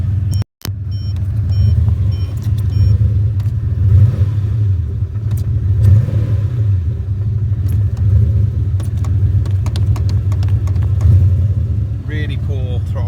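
A car engine runs with a steady, loud low rumble close by, a brief cutout near the start and a slight rev toward the end; the throttle body is poorly attached, giving weak throttle response.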